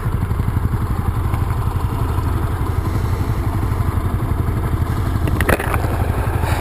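A Honda CTX700 motorcycle on a 2015 demo ride, its engine thrumming steadily and loud up close with constant wind roar, a brief clatter near the end, no talk.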